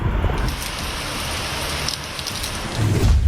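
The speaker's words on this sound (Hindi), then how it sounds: "बारिश ने एक बार फिर से कहर ढाया है" Heavy monsoon rain pours down during flooding in India, a dense, steady hiss of drops on surfaces, with a deep roll of thunder building near the end, loud and close with no talk.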